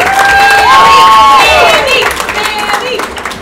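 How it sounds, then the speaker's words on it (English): A crowd cheers and shouts with high, excited voices, mixed with clapping that fades somewhat toward the end. "So we're going to give Sam a nice big round of applause."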